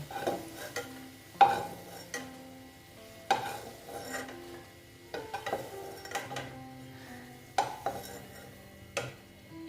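An egg dish cooks in oil in a pan, heard as sharp metal utensil clinks and scrapes against the pan every second or two, with only a faint, quiet sizzle in between.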